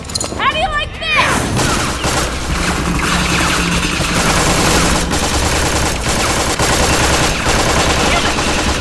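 Sustained gunfire from the video game Tales from the Borderlands, a dense loud stream of rapid shots filling the scene, with voices calling out over the firing at the start.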